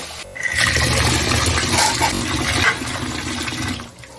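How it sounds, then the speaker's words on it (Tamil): Water gushing from a tap while mutton is washed in a home kitchen, a continuous loud splashing rush that eases off at the end, with no talk. "இப்போ நான் வந்து கறியை நல்லா கழுவி எடுத்துக்கிறேன்"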